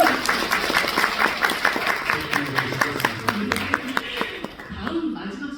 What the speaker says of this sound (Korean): 배우님께 박수 한번 부탁드립니다.